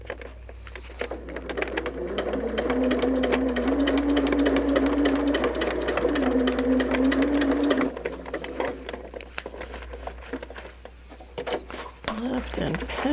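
A sewing machine runs steadily stitching through a quilt block, a continuous mechanical hum that pauses briefly near the middle and picks up again, with a voice talking over it.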